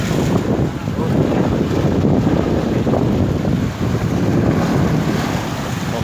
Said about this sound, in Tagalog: Mga katropa, lalong lumakas ang hangin. Ayun, malalaki na yung alon mga katropa.